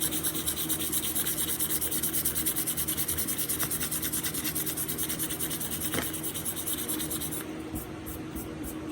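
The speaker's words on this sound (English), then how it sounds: "we're gonna get a lighter sandpaper and go over it again" Sandpaper rubbing back and forth over a clearcoated pinball playfield, a steady close scratching that continues without pause and thins near the end.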